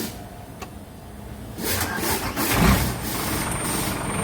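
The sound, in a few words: engine starting with a YESPER N1 jump starter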